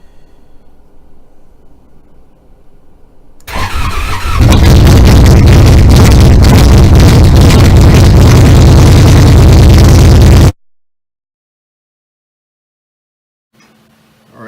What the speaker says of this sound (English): I'm going to let it warm up and then show that the idle is going to, basically stabilize around 900 once it's at full temperature